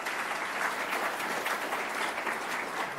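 An audience breaks into sustained applause, a thick wash of many hands clapping at an even level throughout, fairly close and with no voices standing out.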